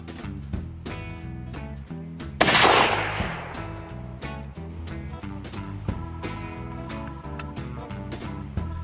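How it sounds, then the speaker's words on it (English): A Benelli shotgun fitted with a full choke is fired at a 25-yard target outdoors, one sharp, loud blast with a brief decaying tail, heard over steady background music. "Rob's going to show us what a 25-yard shot looks like using a full choke with this Benelli."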